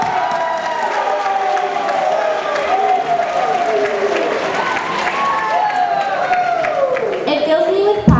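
At a high school graduation, a large crowd claps and cheers steadily throughout, and voices rise and fall loudly over the applause.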